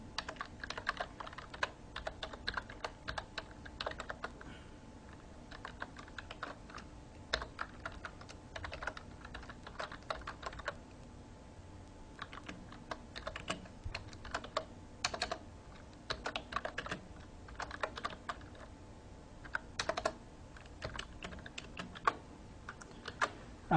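Steady computer keyboard typing while Java code is entered, irregular key clicks in bursts with brief pauses, close and moderately quiet, no talking.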